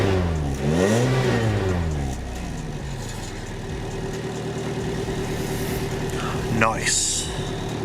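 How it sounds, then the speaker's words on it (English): A Suzuki Swift with a newly repaired and replaced exhaust revs briefly, its pitch rising and falling in a quick sweep, then settles into a quiet, steady idle nearby, with a second short blip near the end. "Give it a little rev."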